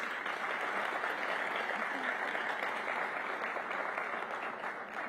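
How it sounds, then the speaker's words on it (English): An audience at a mayoral announcement on Black homeownership claps steadily in a sustained round of applause, fairly even and somewhat distant throughout. "So please give her a round of applause for this."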